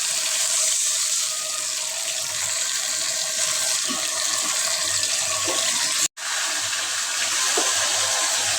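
Water poured into a pan of fried fish in masala, a continuous close gushing splash and rush with a very brief break partway through, no talking.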